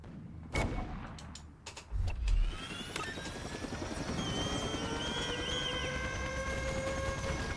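Helicopter in the war video game Toy Soldiers: Cold War, a steady rotor drone building from about three seconds and holding loud amid sharp gunfire and explosion bursts early on, with no talking.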